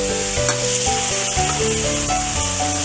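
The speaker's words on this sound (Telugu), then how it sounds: "మాడిపోకుండా కొంచెం బ్రౌనిష్ కలర్ వచ్చేంత వరకు మనం ఫ్రై చేసుకోవాలి ఆనియన్స్ అయితే" Onions frying in a pan for Andhra-style egg curry, a loud, continuous sizzle with repeated stirring scrapes and clatters throughout, no voices.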